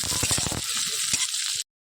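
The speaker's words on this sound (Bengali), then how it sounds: "এখানে দিয়ে দেবো আদা কুচি, কাঁচা লঙ্কা কুচি, দিয়ে এটা হালকা ভাজা ভাজা হবে।" Chopped ginger and green chilli fry with onion in a pan for chilli paneer, a bright, close sizzle with rhythmic scraping stirs at first, then a steady hiss that cuts off abruptly.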